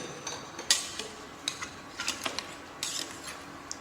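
A spoon stirs small shallots in a stewing pot, giving scattered light clinks and scrapes against metal, fairly quiet and irregular.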